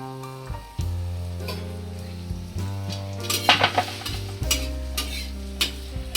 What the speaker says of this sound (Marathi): आता आपण कांदा टाकतोय तेलामध्ये चांगला लालसर भाजून घ्यायचा आहे